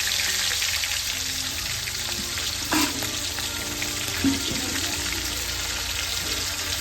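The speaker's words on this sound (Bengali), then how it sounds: "আমি মাছ ভাজছি আর কত দূর থেকে ক্যামেরা করছি" Fish frying in oil in a pan at an outdoor picnic gives a steady, dense sizzle and crackle throughout, with a couple of brief clinks and spatters near the middle.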